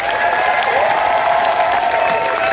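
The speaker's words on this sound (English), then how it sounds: "A huge round of applause" An audience at a concert at Solvang Theaterfest applauds during band introductions, a full, steady burst of clapping and cheering with a few whistles and shouts over it.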